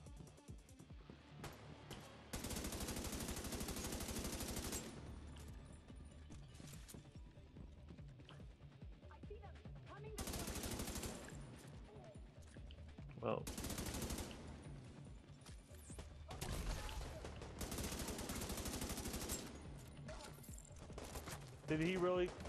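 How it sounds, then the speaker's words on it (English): Automatic gunfire in The Division 2, long sustained bursts of rapid shots separated by quieter gaps, loud and close, with a player's voice in the lulls. "God, I love this Kim gun."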